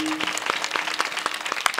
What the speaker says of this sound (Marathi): त्यांच्याकरता एकदा जोरदार टाळी वाजवा